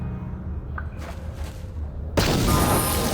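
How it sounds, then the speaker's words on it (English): A frag grenade goes off in a Star Wars: Knights of the Old Republic battle: after a few quiet clicks and thuds, a sudden loud blast erupts and roars on to the end. "I think the best way to handle this might be a frag grenade?"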